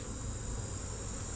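Honeybees at an opened hive during a mid-September inspection, a dense, continuous buzz of many insects that stays loud and close throughout, with no voices.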